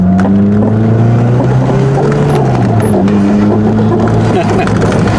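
Lotus Esprit supercar engine while driving, a loud continuous drone with strong harmonics that dip and shift slightly as the revs change, heard from inside the cabin.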